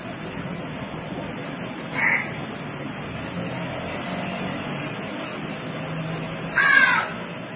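A crow gives two separate caws a few seconds apart over a quiet outdoor background with faint traffic, the second call louder and harsher.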